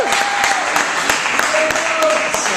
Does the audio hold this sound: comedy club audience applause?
yes